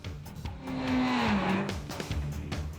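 A Lexus GS450 hybrid, pairing a V6 gasoline engine with a hybrid system, accelerates hard with a rising engine note that swells and then settles over a few seconds, alone with no talk.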